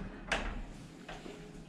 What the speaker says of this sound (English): this door is not like an actual door on hinges, it's a pocket door